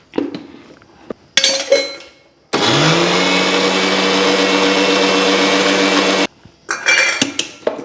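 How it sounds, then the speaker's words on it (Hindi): Electric mixer-grinder pulverising fennel and other spices for homemade pickle, a loud steady whir running about four seconds, with clinks and handling noises of the jar before and after. "सौंफ भी निकाल रहे हैं खड़ा उसमें डालने के लिए और बाकी को पीस ले रहे हैं"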